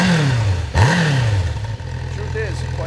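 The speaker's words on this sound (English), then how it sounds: "Listen to the exhaust note." A 1986 Suzuki GS550ES motorcycle with stock exhaust pipes growls at close range, its engine revving up and dropping back twice before it settles into a steady idle.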